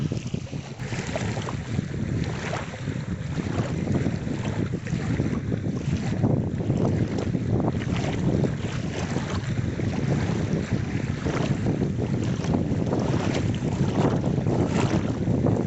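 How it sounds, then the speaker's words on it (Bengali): Waves wash and lap on the shore of Pangong Lake, half buried under constant heavy wind buffeting the microphone, a steady rushing roar with no voices. "এখানে জলের ঢেউটা কি সুন্দর আসছিল"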